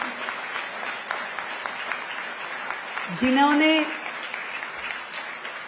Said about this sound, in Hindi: तो एक बार जोरदार तालियां वीसी महोदय के लिए बजाएं भाई